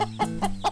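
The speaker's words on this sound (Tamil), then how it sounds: "இது நாட்டுக்கோழி குஞ்சாச்சே" A cartoon native country chicken chick gives four quick, close, soft clucks in an even rhythm.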